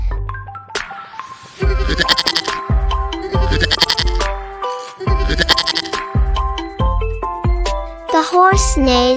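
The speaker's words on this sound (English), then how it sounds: "The goat bleats." A goat bleats in several loud, wavering calls close by, set against a light jingly musical backing, ending with a higher trembling bleat.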